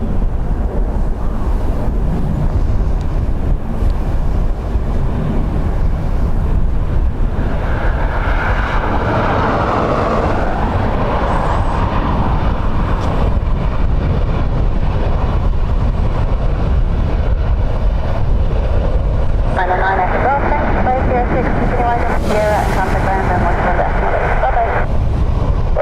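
Airliner landing at Dublin Airport on a windy day with thrust reversers deployed, a loud, sustained roar swelling midway and again near the end, blended with heavy wind buffeting on the microphone and occasional radio chatter.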